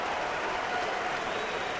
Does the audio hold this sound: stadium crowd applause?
yes